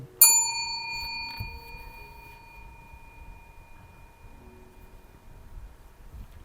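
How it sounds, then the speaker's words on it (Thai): A small bell is pressed once, giving a bright metallic ding that rings out and slowly decays over several seconds into quiet background. "กดกระดิ่ง"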